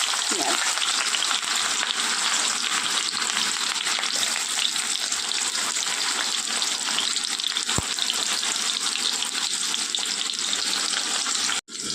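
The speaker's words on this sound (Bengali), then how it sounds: "একটুখানি ভেজে নেবো পেঁয়াজটা একটু কালার চেঞ্জ হয়ে যাওয়া পর্যন্ত ভেজে নেবো" Chopped onion sizzles steadily in hot oil with black cumin seeds, a dense continuous frying hiss with faint stirring, close and loud throughout, ending with a brief clunk.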